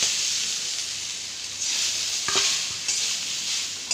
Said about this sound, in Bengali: এটা একটু ভালো করে ভেজে নিতে হবে, প্রায় 3 মিনিটের মতন।